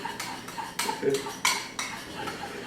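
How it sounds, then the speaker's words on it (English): Honey and Dijon mustard worked together in a bowl without a whisk, giving a string of clinking, scraping utensil strikes against the dish at close range, with a few louder knocks in an irregular rhythm. "you can still whisk it real good"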